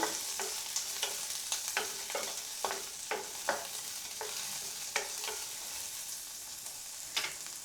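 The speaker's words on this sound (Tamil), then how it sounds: "எண்ணெய் சூடானதுக்கப்புறமா நம்ம கட் பண்ணி வச்சுருக்கக்கூடிய சாம்பார் வெங்காயத்தை இதில் போட்டுடலாம்" Sambar onions sautéing in hot oil, a steady bright sizzle with a series of sharp scraping stir strokes at irregular intervals, close and fairly quiet throughout.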